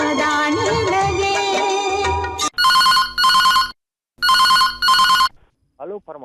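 A telephone rings at a live radio call-in request show right after a song ends, with three clean electronic ring bursts separated by short silences, followed by a brief voice.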